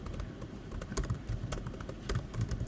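Fast, steady keystrokes on a computer keyboard as code is entered, close and fairly loud, with a few heavier clacks from the space bar or enter key and no talking.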